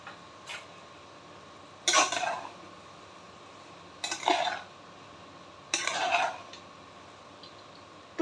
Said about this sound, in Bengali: হালকা হাতে নাড়াচাড়া, খুব মানে তাড়াহুড়ো করে না, হালকা হালকাভাবে, যাতে রাইসগুলো মানে ভেঙে না যায়